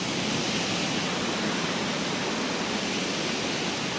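A waterfall near a riverside campsite in Laos gives off a steady, unbroken roar of rushing water, dense and even throughout, with no voices.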